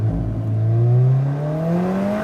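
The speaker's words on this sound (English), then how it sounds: "Whichever way you slice it, this car is loud. It is possibly the most distinctive 4-cylinder I've ever experienced in my life." A 2016 Alfa Romeo 4C Spider's four-cylinder engine accelerates hard, its loud, raspy note climbing steadily in pitch through the rev range from close by, with no voices.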